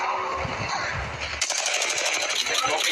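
Rapid automatic gunfire from a mobile shooter video game, a dense continuous burst that turns brighter and harsher partway through, loud and steady with no talk over it.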